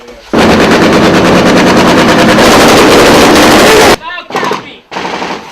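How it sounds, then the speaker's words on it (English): Sustained automatic gunfire roars loud and close during a Marine firefight with a Taliban ambush, a dense continuous burst that cuts off abruptly, followed by a few shorter bursts. "You can hear at least the two when they shoot down there."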